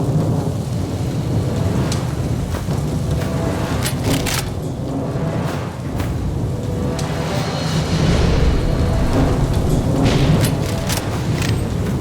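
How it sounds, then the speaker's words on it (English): Heavy rain pours steadily in the video game NecroVisioN, joined by rolling thunder that swells and crackles several times across the scene, loud and close with no voices. "Looks like someone up there is crying over our fate. In England, we call it rain."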